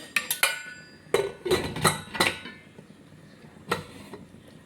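A spoon scrapes and clinks against a metal pressure cooker while food is stirred, with a quick cluster of sharp taps near the start, several louder knocks in the middle, and one last clink after a pause, close by and without talk.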